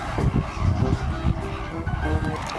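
Flock of flamingos calling with goose-like honks at a winter salt lake in Larnaca, Cyprus, a dense overlapping chorus carrying steadily from a distance across the whole stretch.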